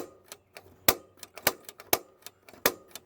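Rapid clicking of the gas igniter on a 2011 Jayco Jitterbug 1007 camper's exterior system, a dozen or so sharp close clicks in an uneven quick rhythm with no talk.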